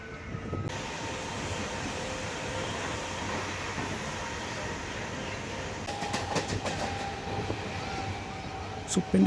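A MEMU passenger train runs through Pendiyala station on the Secunderabad–Warangal line, with a continuous dense rolling roar, faint clickety-clack and a sustained hum, then sharper rattling knocks building toward the end, under occasional talk.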